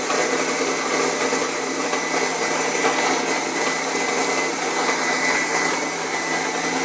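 Electric mixer whisking egg whites for a light chocolate mousse, a steady high-pitched motor whir running continuously and fairly loud, with no talking.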